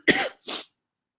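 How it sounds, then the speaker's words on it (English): Two sharp coughs in quick succession from an adult woman, close and fairly loud, then silence. "I have a cough that I might as well tell you I got from my child."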